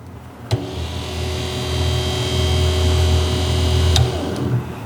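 A trolling motor runs inside a drum mixing sugar syrup, a steady electric whine and churning hum heard close, with a couple of sharp clicks and no talking.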